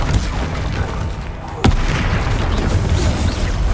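A Confringo fire spell bursts in the Hogwarts Legacy video game, a single sharp booming blast at mid-clip that rises out of dense game noise and leaves a loud rumble behind it.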